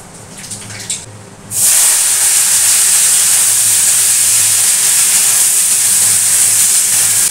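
Five-spice tempering (panch phoron) hits hot oil in a kitchen and bursts into a loud, steady, broadband sizzle that goes on for several seconds after a quieter start.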